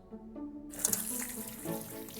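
Cold tap water starts abruptly and runs steadily into a kitchen sink as peeled shallots are rinsed under it, a close, continuous splashing gush with a few brief clinks.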